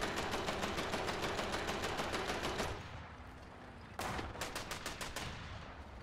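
Rapid bursts of automatic gunfire in the War Thunder combat game, loud and close: a long rattling volley, a brief lull with low engine rumble, then another sharp burst of rapid shots.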